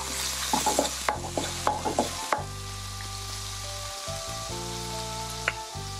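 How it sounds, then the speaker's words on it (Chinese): Sliced bacon fries in a pan while it browns to golden for Shanghai vegetable rice. A run of quick spatula scrapes and taps over the first couple of seconds gives way to a steady, close sizzle with no speech. "把它炒那个成为金黄色哈"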